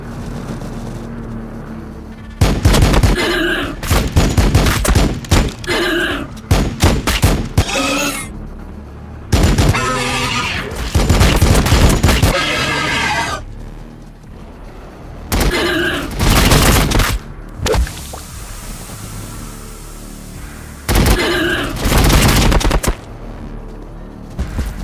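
Rapid bursts of gunfire in the Warhammer 40,000: Battlesector video game, loud fusillades and machine-gun volleys in repeated clusters separated by short lulls, with no talk.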